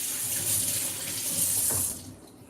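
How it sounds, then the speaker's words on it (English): Tap water runs into a kitchen sink as carrots are rinsed, a close, steady hissing splash that fades out near the end. "these carrots look like they could use some"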